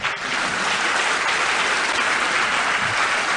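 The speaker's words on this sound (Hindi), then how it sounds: "वैसी तालियां इनके लिए बजा दीजिए आप।" Loud, sustained audience applause at a large business seminar hall, a thick, even roar of many hands clapping together, continuous throughout with no speech.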